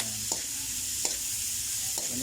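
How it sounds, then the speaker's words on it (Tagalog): A spoon stirs tomatoes and bitter gourd in a sizzling pan. Three distinct scraping strokes land about a second apart over a steady close fry, with no talk. "Haluin lang natin"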